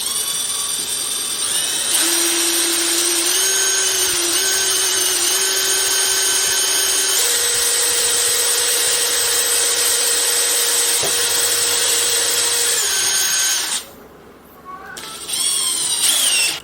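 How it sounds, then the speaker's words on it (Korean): A power drill bores into wood held in a MILES CRAFT drill guide, its motor whining steadily with shifting pitch as the bit cuts, then briefly stopping before spinning up again near the end. "그리고 천천히 드릴링 작업을 하시면 됩니다."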